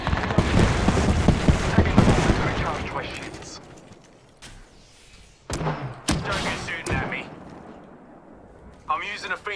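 Gunfire and heavy impacts in the Apex Legends video game, with bursts of shots and thuds coming in uneven clusters between quieter gaps, under a player's voice.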